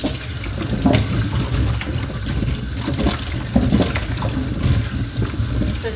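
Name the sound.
water rinsing limes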